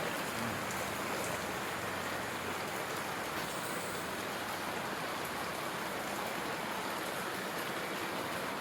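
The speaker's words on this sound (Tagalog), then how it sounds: "Malakas yung ulan mga buddy oh." Heavy rain pouring steadily onto surfaces, a dense, even wash of drops with no pauses, heard alone.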